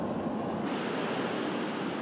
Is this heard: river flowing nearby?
yes